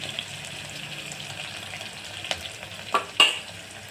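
Ridge gourd pieces frying in a pan for a chana dal curry: a soft steady sizzle close by, with a few sharper pops and stirring clicks near the end.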